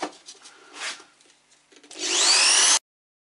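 Drill bit boring through wood for a bedside table, a few faint scraping rubs followed by a loud rising whir as the bit grinds through, then stopping abruptly.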